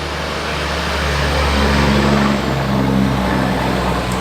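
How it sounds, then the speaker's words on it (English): A dump truck drives up the street with a heavy, low diesel rumble and broad roar that swells and holds, loud and fairly near throughout, with no talk. "There's a dump truck, I think,"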